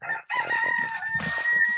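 Farmyard chickens cluck and squawk close by in a busy run of overlapping calls, with a drawn-out crowing tone that stretches across the clip and no talking over it.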